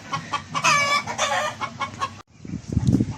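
Chickens and young chicks on a farm cluck and chatter in close, busy bursts, with a brief drop to silence before more low clucking resumes.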